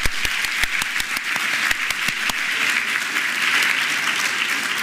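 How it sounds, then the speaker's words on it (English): A medical school graduation audience gives a round of applause, with several sharp, distinct nearby claps in the first half over a steady crowd wash that continues to the end. "let's give her a round of applause"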